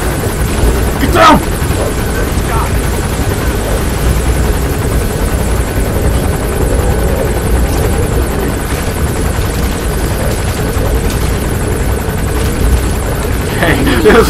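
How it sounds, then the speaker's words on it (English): A helicopter gunship in Metal Gear Solid 5 drones loud and continuous with a steady rotor rumble throughout, while excited voices talk over it. "Oh shit, the gunship!"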